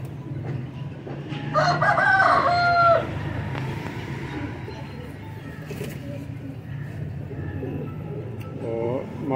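Breeder pigeons coo in a low continuous murmur, with a brief louder call rising out of the mix partway through and faint voices in the background.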